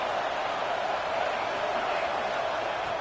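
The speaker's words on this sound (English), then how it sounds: "this crowd is fired up. Listen to this noise here" A big stadium crowd at a college football game between UCLA and Ohio State roars steadily for three seconds, a dense, constant wash of cheering with no break or swell.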